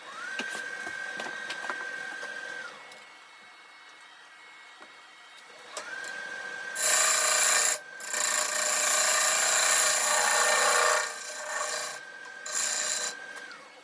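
A 5/8 inch bowl gouge cuts a tenon on a burl bowl spinning on a wood lathe, giving bursts of harsh, loud scraping and shaving over a steady motor whine, several seconds each with short pauses between.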